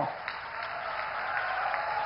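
Crowd applauding the Prime Minister at a rail service launch event in Jharkhand: a continuous wash of distant clapping, fairly faint and even, with no voices over it.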